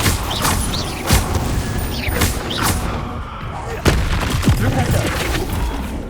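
A spellcaster in Hogwarts Legacy repeatedly casts the Incendio fire spell, producing a series of sharp, loud bursts and booms with crackling whooshes and mechanical clanks in between.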